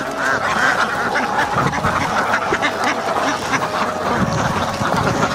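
A flock of ducks on a farm quacks continuously and loudly, many overlapping nasal calls forming a dense, restless chorus close by, with no speech.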